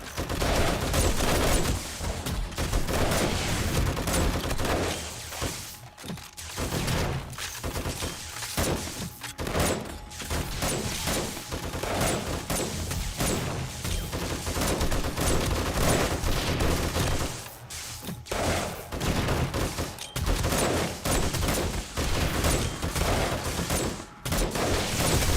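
Near-constant gunfire in the zombie survival game 7 Days to Die, a dense unbroken barrage of shots running throughout, loud and busy with only brief dips.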